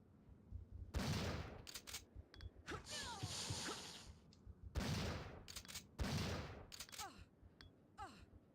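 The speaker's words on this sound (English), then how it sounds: "Okay, fine, we'll use a shotgun." Shotgun blasts in Resident Evil 3: Nemesis, four loud booming shots spaced a second or two apart, each followed by a rustling reload and creature noises between them.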